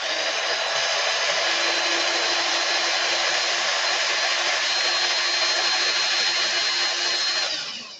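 A steady, loud high-pitched electric drill whirring continuously for several seconds as it twists wire, then winding down at the end.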